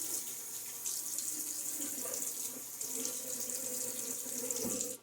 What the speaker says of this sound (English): And water on my face.